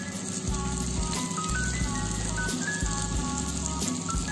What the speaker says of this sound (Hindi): अब हम 1 बाय 1 अपने समोसे ऑयल में धीरे से छोड़ देंगे।